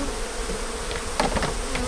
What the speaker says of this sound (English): I can tell the bees have gone down a little bit already.